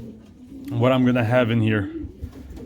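Pigeons coo in a loft holding around sixty birds, a rolling, harmonic cooing that swells for about a second and then fades, heard close up with someone speaking briefly over it.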